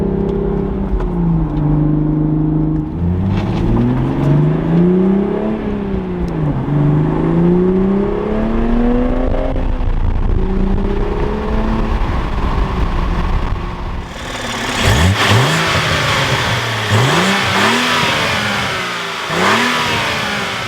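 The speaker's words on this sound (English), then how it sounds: "the Supra has some good sounds, especially with the manual" A manual A90 Toyota Supra engine revs repeatedly, pitch rising and falling in long sweeps, then sharper blips with crackling exhaust pops near the end; loud and close, no talking.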